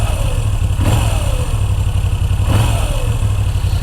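A Moto Guzzi V9 Bobber's V-twin engine idles with a loud, throbbing rumble and is blipped twice, each rev rising sharply then falling back, heard close up without talk.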